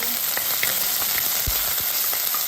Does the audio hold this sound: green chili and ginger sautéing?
yes